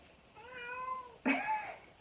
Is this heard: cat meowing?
yes